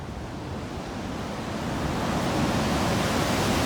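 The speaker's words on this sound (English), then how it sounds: "And the waves actually break over this wall." Sea waves breaking over a seafront wall on the Spanish coast, a broad steady wash of surf that swells slightly louder toward the end, with wind noise on the microphone and no voices.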